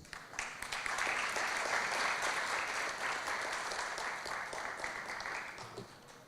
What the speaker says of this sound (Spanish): por favor, con un fuerte aplauso.